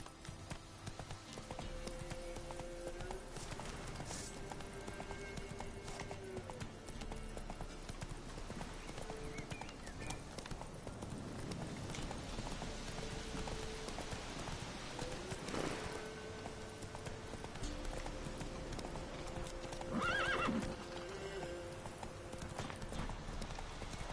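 A horse gallops with steady, close clip-clop hoofbeats in the video game Witcher 3, and a brief whinny rises near the end.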